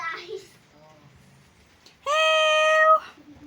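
A single drawn-out cat meow, loud and close, with soft murmuring before it and faint sounds after.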